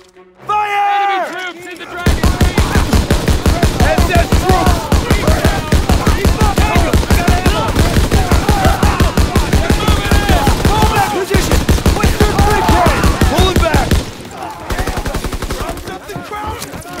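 Dense, sustained gunfire from a World War II battle in Call of Duty: WWII, with rapid machine-gun bursts and rifle shots pounding almost continuously, loud and close, under shouted voices and combat chatter.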